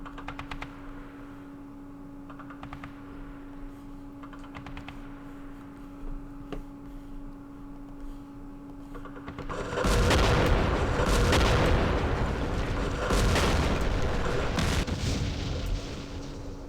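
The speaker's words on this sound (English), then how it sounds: "And let's call in some more airstrikes." Airstrikes and artillery land in a World War II war game set at Kursk, with faint ticking at first, then a sudden dense burst of booming explosions and rumbling fire that carries on to the end.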